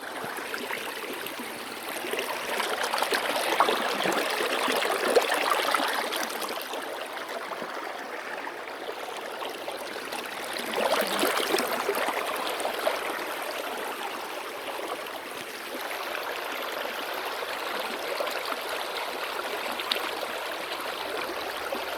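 Water flows steadily in a stream, making a continuous rushing, gurgling wash that holds at a moderate, even level throughout with no voices.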